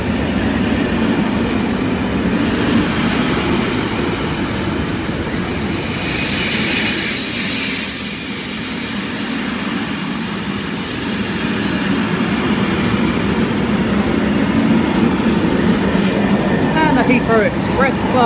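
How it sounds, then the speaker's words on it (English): A Freightliner Class 66 freight train passes through Ealing Broadway station, a loud, steady rumble of wagons and wheels with some squeal, sustained for the whole stretch, with faint voices in the background. "And we have a Freightliner"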